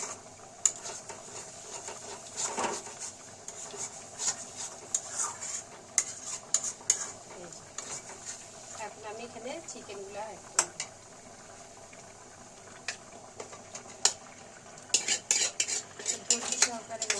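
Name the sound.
stirring and frying spice paste (masala) in a pan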